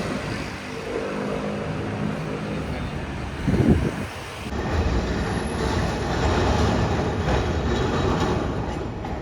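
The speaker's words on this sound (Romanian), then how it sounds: "Suntem în tren, ura, mergem acasă." A passenger train runs from Milan Central station, a loud, steady rumble of wheels on rails with rattling carriage noise. A sharp whoosh comes midway, then a brighter, rushing stretch of travel; no one speaks.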